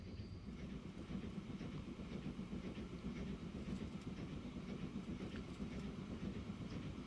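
A train runs in Transport Fever, giving a steady rumbling roll with faint rhythmic clacking, low and continuous throughout, with no talk.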